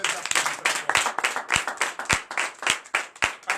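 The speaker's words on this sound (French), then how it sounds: "donc je vous demande de les applaudir très fort." A congregation at a Sunday church service in Benin clapping, loud close hand claps in an irregular rhythmic pattern with strong individual strikes.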